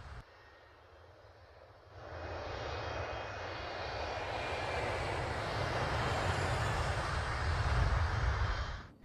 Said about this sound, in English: The 8 front engines roared to life, propelling the KM forward and out of the water.